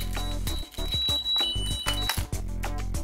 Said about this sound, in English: If the key unit is improperly docked, it will alarm, warning you to redock correctly.